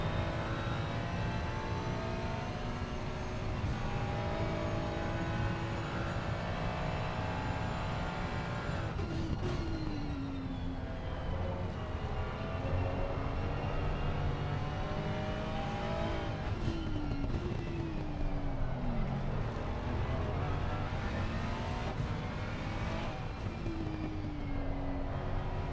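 Racing cars, including a Ferrari and a Lexus, lapping the Nordschleife in a racing video game: a continuous dense roar of several engines, with revving pitch rises and falls as gears change, loud and steady throughout.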